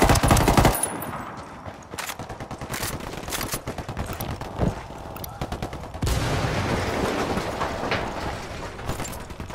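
Sustained automatic gunfire in the video game Ghost Recon Wildlands, with rapid bursts and overlapping shots rattling on and off, fairly close and loud amid background game noise.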